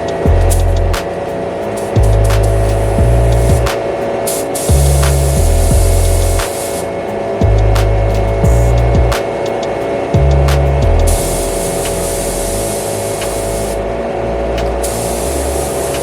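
A spray gun lays clear coat onto a Camaro body in a steady hiss, with bursts that start and stop every couple of seconds under a constant background hum.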